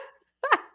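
A dog lets out a single sharp bark, loud and close, just after a faint whimper-like sound in a quiet room.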